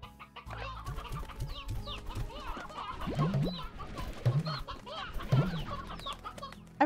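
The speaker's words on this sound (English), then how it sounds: "There's a bunch of little chicks in here." Chickens in the Slime Rancher video game cluck and chatter in a pen, several birds making repeated short clucks and rising squawks at moderate volume, with a faint background drone.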